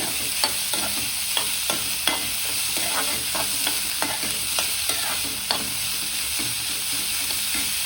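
A steady, loud sizzle of finely chopped onion frying in a pan, with frequent scraping stirs tapping through it.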